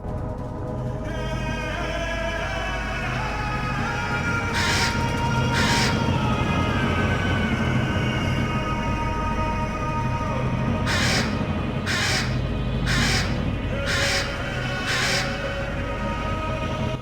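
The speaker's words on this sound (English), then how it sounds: "All the while an Aztec man screams in one ear and crows caw in the other." Crows caw in a jungle scene from the video game Atlantis 2, with harsh repeated calls in two bursts, a pair and then a rhythmic run of four or five, over a steady dense wash of ambient noise.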